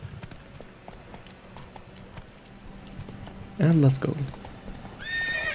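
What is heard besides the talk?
Geralt's horse Roach galloping and neighing in The Witcher 3 video game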